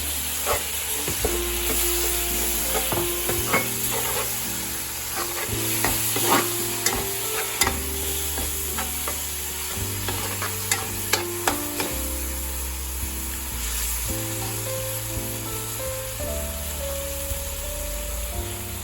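Biryani masala and yogurt sauté in a pan for spicy chicken biryani: a steady close sizzle with frequent spatula scrapes and knocks, over a low musical backing and no speech.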